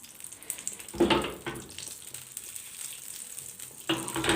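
Butter and a little oil sizzle faintly in a small frying pan, a soft steady crackle with a few louder bursts of frying, no voices.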